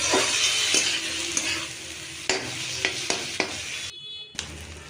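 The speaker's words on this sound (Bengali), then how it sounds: "এবার নাড়াচাড়া করে ভালো করে কষাবার পালা" Spices are stir-fried in fat for chana masala, a loud, crackling sizzle with repeated sharp clinks and scrapes of the spoon against the pan, briefly dropping out near the end.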